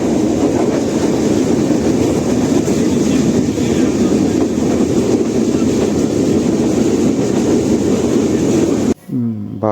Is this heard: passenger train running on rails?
yes